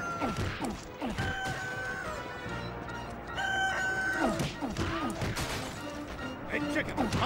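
A chicken clucks and crows in the Family Guy Back to the Multiverse video game during a restaurant fight, amid smashing and whacking hits, music and character voices talking.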